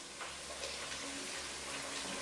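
Onions sizzling steadily in a hot pan while arroz brut is cooked, a continuous close hiss and crackle with no talk.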